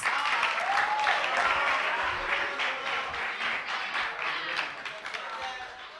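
A crowd at a French slam poetry event claps for a performer, with sustained applause, some cheering and a voice over it, fading slightly toward the end.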